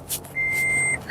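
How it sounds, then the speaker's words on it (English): An electronic warning tone sounds inside a moving car, one sustained beep with a clean high pitch and a shorter chirp before it, over a low road hum. "Excuse the beeping."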